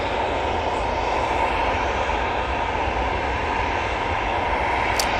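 A Ryanair airliner arriving from Gdansk at Manchester Airport gives a continuous, even jet rumble and whine, steady and fairly loud throughout, with a brief sharp click near the end.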